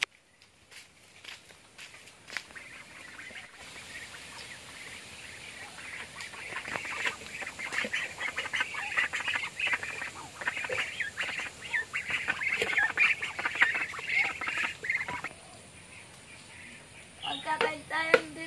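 Ducks being fed on a rural property give scattered, busy quacking and fowl calls that build up over time, mixed with footsteps and occasional voices.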